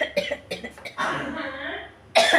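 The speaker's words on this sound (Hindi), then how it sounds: "खांसी हो गई अभी सबको, खांसी फंदे लगेंगे, मिर्चें भुनती हैं तो ऐसा ही होता है।" Several people in a home kitchen cough from chillies roasting on the stove, a burst of close harsh coughs and throat clearing, then a short pause before more coughing.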